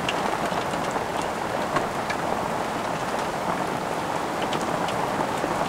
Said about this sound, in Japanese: それは本当に激しい雨でした。